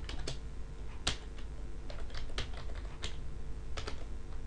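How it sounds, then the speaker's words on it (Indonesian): Keys clatter on a computer keyboard while a Linux terminal command is typed, giving a quick irregular string of light, close clicks over a steady low hum. "Kita ketik sudo nano."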